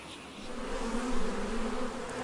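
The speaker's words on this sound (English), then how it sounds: "this bee is dancing" Steady, close buzzing of bees around a hive, a dense continuous drone with no voices.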